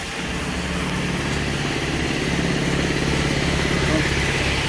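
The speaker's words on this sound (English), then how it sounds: "Hold on, my compressor went off." An air compressor runs in a truck repair shop, a loud continuous mechanical drone with rapid pulsing that holds steady and swells slightly toward the end.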